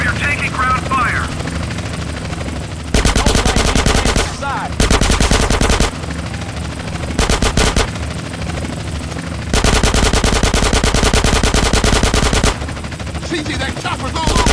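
Bursts of rapid automatic gunfire rattle against a police helicopter in Grand Theft Auto: San Andreas, with the rotor's steady thrum running underneath; the long loud volleys alternate with quieter stretches of engine noise and voices.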